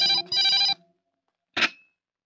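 A telephone rings in a Hindi film scene: two bright electronic ring bursts close together, a pause, then a shorter third burst, loud and clear with no talk over it.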